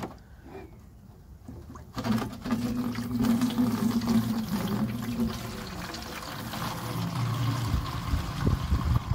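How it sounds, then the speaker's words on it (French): Water pours from a watering can into a camper van's water tank, a steady splashing flow that starts after a quiet couple of seconds and carries on to the end. "je vais remplir la réserve d'eau"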